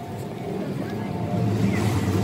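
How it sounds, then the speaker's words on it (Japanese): Shin-Keisei Line train bound for Matsudo pulls in past a level crossing, a steady low rumble and hum that builds slightly louder over a couple of seconds, heard from close by with no voices. "はい、来ました、松戸行きの新京成線。"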